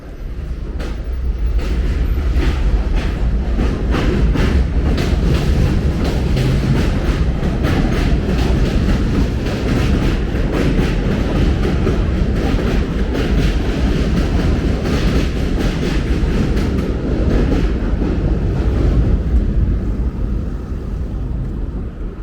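A train rumbles steadily at close range at the 18th Avenue station in Bensonhurst, Brooklyn, with clattering, rhythmic wheel clicks and a dense roar that does not let up.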